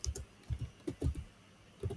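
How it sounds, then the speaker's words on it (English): Keys clack on a computer keyboard as a networking command is typed into a terminal, in several quick clusters of close keystrokes separated by short pauses. "we are typing here show IP"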